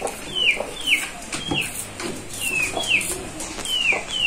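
A rooster calls over and over in short, sharp high chirps, roughly every half second, against a quiet farmyard background.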